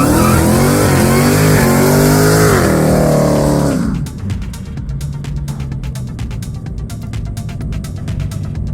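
A 1969 Plymouth Road Runner with a Hellcat Redeye supercharged V8 swap revs loudly up close, then pulls away, its engine note fading into a rougher, more distant rumble.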